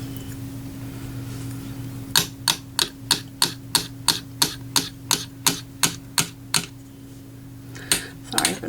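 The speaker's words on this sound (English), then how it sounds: "I could chop a little bit of it up." Sharp, evenly spaced chopping taps as a blade cuts polymer clay into small pieces, about a dozen rhythmic knocks close by over a steady low hum, then a brief pause and a few more cuts.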